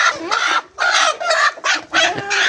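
Chickens clucking loudly and close as a hen is caught, agitated squawking bursts in quick succession with brief gaps between them.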